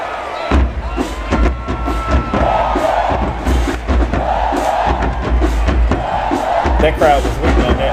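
Stadium crowd at a JSU versus ASU marching band matchup reacting with a loud collective "ooh" and cheering swells, dense and near, with bursts of shouts and a few bangs throughout.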